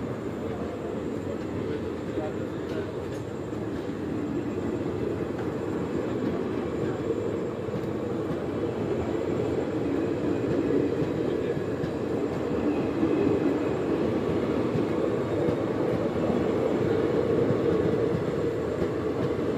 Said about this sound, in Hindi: खाली ट्रेन जा रही है।